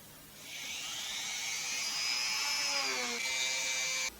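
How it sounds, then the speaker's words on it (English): A Dremel rotary tool whines steadily while polishing a metal tap guide block, a close, high-pitched sustained grind whose pitch shifts slightly midway before cutting off abruptly. "Broke out the Dremel. Yeah, I want to polish it more."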